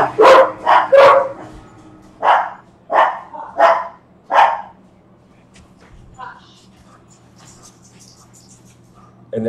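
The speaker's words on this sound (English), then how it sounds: "they're barking at the other dog" Dogs bark indoors in a room, a burst of several loud close barks followed by a few more spaced barks, then quieter whimpers and rustling.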